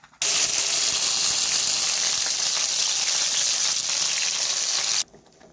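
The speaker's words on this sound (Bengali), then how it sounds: "কড়াই তেল দিয়ে দিয়েছি, ফোড়নে আমি দেব গোটা গরম মশলা, দিয়ে দেব ম্যারিনেট করা মাংস" Marinated chicken and whole garam masala hit hot oil in a wok-style pan with a sudden loud, hissing sizzle that holds steady for about five seconds and then cuts off abruptly.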